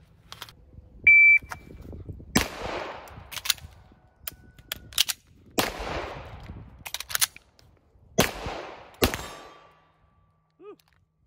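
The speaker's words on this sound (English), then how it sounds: "So this is 6 shots as fast as we can, all hits." Six rapid pistol shots from a Tisas 1911 Night Stalker handgun, fired as fast as possible in loud sharp bursts spaced a second or two apart, each trailing into a short echo, with a brief electronic beep early on.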